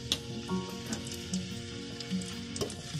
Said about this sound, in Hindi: 1 कप ऑयल का डाल लेंगे और ये प्याज डाल देंगे इसमें फ्राई के लिए